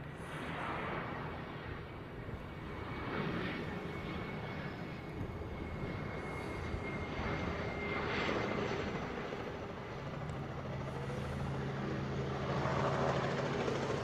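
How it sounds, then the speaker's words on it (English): A Hawaiian Airlines jet lands on runway 4 in Hawaii at sunset, giving a steady, broad engine roar that holds at moderate loudness throughout with no talking. "It's going to be a Hawaiian landing on 4 right here in a second"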